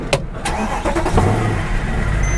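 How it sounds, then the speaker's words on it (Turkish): A car engine cranks on the starter and catches, settling into a steady idle up close, with no talk over it. "Şöyle girip bir marşa basalım."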